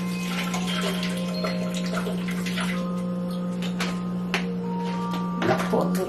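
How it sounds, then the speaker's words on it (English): Purified water is poured into a white bowl holding sea moss, making a close, splashy trickle over a steady electrical hum, with a voice heard briefly. "I'm gonna take some purified water and then just pour it"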